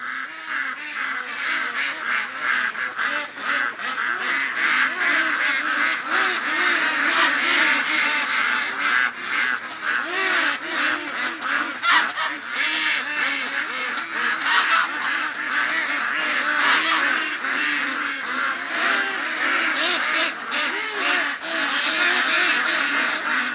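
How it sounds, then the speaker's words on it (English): A loud, crowded flock of ducks and geese honks and quacks nonstop at close range, with overlapping calls in a constant busy chatter. "Hello, ducks!"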